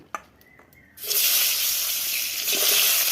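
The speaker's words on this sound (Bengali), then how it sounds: "এবার আমি সব রকম সবজি আমি তেলের উপরে ভেজে নেব" Mixed vegetables for helencha shak hit hot oil with a sudden loud sizzle after a few small clinks, then a steady close frying hiss carries on to the end.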